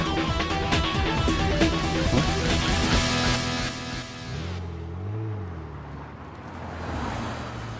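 A tuned, high-performance car engine, anime sound effect, roars loudly with a rising whine as the car closes in, then drops to a lower steady rumble with a brief pitch swell; no talking.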